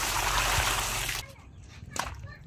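Water drawn from a well pours in a loud, steady rush for about a second before cutting off, leaving quieter drips and sloshes.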